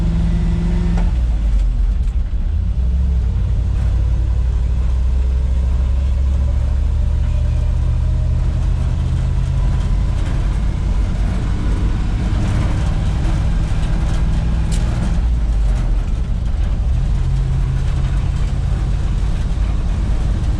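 A 1979 Ford F800 truck rolls down the road, its engine a steady, loud low rumble with heavy drone and cab noise throughout, no voices over it.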